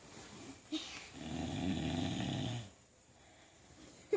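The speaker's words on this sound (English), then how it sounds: "You're snoring while you're awake?" Dog snoring while lying on its back, one long raspy snore swelling close to the microphone, then quiet breathing and a brief snort at the end.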